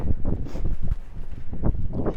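Steady wind in a suburban valley buffets a microphone, a dull rumbling roar that gusts and swells without pause, close and fairly loud.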